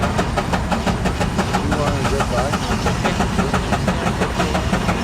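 An old engine runs at the Rock River Thresheree in Edgerton, Wisconsin, with a loud, rapid, steady chugging knock close by and voices talking over it.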